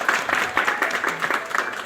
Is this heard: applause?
yes